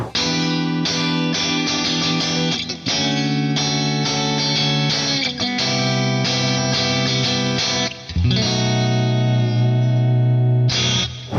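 Distorted electric guitar on a Fender Player Stratocaster with all three pickups engaged plays sustained chords and melodic runs with a thick, creamy tone and slight chorus-like shimmer, loud and continuous without talk.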